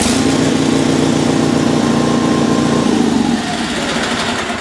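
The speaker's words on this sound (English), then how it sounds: "anyway, I started it, shut it off now about 3 times in the garage here" A Sears Suburban SS16 garden tractor with a 16 HP Onan twin-cylinder engine runs steadily in a garage in winter, a loud, even, throbbing drone that eases slightly lower in the last second.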